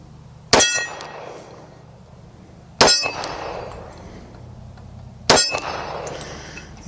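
Three bright metallic clangs ring out one by one at a steady, unhurried pace as FN FNS40 .40 S&W pistol rounds strike steel plate targets outdoors, each hit leaving a short ringing decay.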